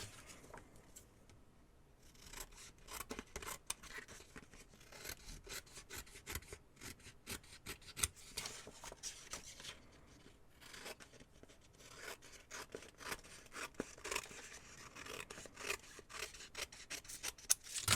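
Scissors snip steadily through poppy-print fabric for a junk journal, a dense run of quiet crisp cutting strokes that continues throughout with no talking.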